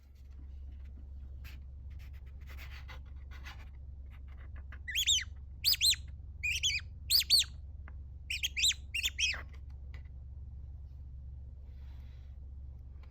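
An Easter squeezy greeting card with a hole in its center being squeezed, giving a series of short, high squeaky chirps in clusters over a steady low hum, fairly close.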